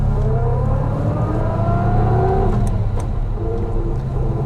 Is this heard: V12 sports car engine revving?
yes